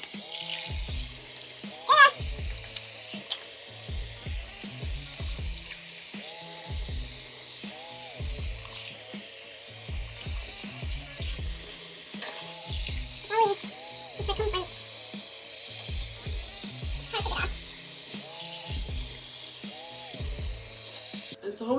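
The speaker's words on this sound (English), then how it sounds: "I'm about to wash this thing off of my face." A bathroom tap runs steadily while someone washes their face at the sink after brushing their teeth. Water splashes and trickles continuously for about twenty seconds, with faint vocal sounds underneath.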